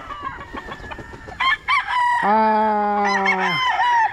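Stags, young fighting roosters kept by a Philippine gamefowl breeder, cluck in short bursts, then one of them gives a loud, close, drawn-out crow of about a second and a half, with more clucks and other crowing around it.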